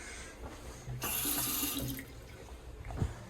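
Hotel bathroom shower with water running, a steady close hiss that swells and holds for about a second before easing off, ending with a thump as it is shut off; no talking.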